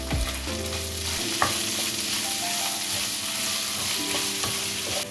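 Keema with chopped onion, green chilli and tomato being stirred in a hot pan: a continuous close sizzle and frying crackle with scraping stir strokes throughout.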